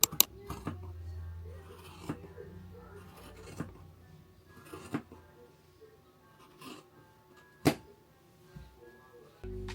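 Scissors snip through the fabric of a thrifted pant leg, cutting it down to capri length, in a few sharp crisp cuts spaced across a quiet room, with one louder snip near the end.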